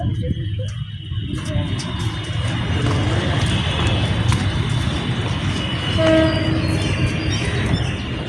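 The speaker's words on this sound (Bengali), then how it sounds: "একটা ট্রেন ঢুকছে।" A train rolls into Princess Ghat railway station with a steady heavy rumble, wheel clatter and a squeal of brakes, close and loud, with faint voices in the background.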